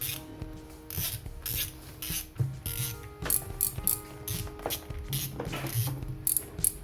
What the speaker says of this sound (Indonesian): Langsung kita cek dulu keadaan dari dragnya.